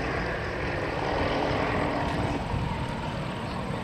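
A Nanchang CJ-6 propeller airplane taking off at an airshow, its engine a steady, fairly distant droning roar with wind-like noise, no voices over it.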